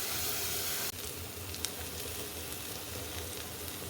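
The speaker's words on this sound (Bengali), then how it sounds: "মশলাটা ভালো করে কষিয়ে নিচ্ছি।" Spice paste sizzles in hot oil in a pan, a loud hiss at first that drops suddenly to a steadier, quieter frying crackle with a single sharp pop.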